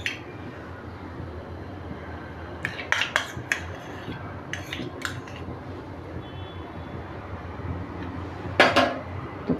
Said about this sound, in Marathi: गॅस चालू करून घेतला आणि मी कढई ठेवली, अशी जाड बुडाची कढई ठेवायची.